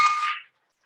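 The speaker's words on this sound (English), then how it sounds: "I will definitely ring the bell for Evan." A bell is rung once at a Rotary Club of Oakland meeting, giving a single bright clang that rings briefly and fades within half a second, with no talk.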